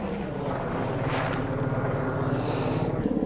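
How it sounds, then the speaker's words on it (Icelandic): Helicopters fly over a volcanic eruption in Iceland, giving a steady loud rotor drone with a rapid low beating pulse and broadband roar throughout, with no talking. "Þyrlur út allt maður."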